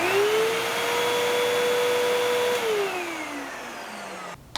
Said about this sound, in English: So now we're moving on to the 12 amp vacuum.